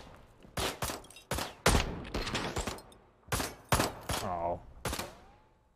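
Gunfire in the video game Ride to Hell: Retribution, loud separate shots in quick bursts with short gaps between them and sharp cracks that fade out; a voice briefly speaks between shots.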